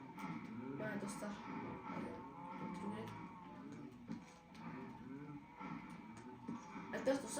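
Minecraft cows moo repeatedly in a farm pen in the game, with low drawn-out calls overlapping one another under a person speaking throughout.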